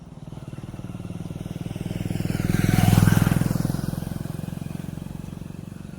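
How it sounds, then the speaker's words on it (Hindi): A motorcycle passes by outdoors near a home workout spot. Its engine drone swells steadily to a loud peak as it goes past, then fades away. No one speaks. "तो इससे पहले इस बाइक को निकलने देते हैं हम।"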